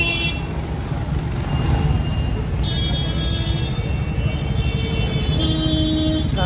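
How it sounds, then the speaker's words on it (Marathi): A rainy Sunday traffic jam at a busy Dombivli market, with a constant engine and road rumble and a few sustained car horn tones sounding midway and near the end. "ट्रॅफिक जाम झालं बाजाराचं"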